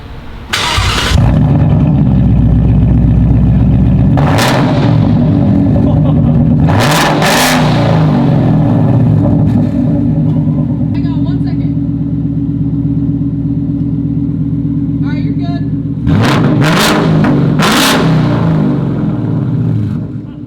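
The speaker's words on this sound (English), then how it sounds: "That's a Mustang." A 2021 Mustang GT V8 with an X-pipe exhaust idles with a deep, heavy rumble and is revved hard several times in sharp bursts, loud and close, with a few voices reacting in between.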